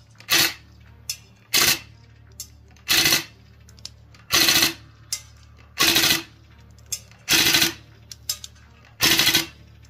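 VFC M249 gas blowback airsoft gun firing short rapid bursts outdoors, about seven evenly spaced rattling volleys with single shots in between and a low steady hum underneath.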